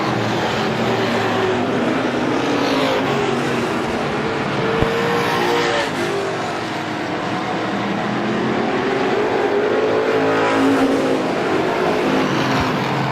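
Strictly-class race cars roar around the oval at Star Speedway, car number 78 leading, engines loud and continuous with passing swells and revving surges, no talk over the steady din.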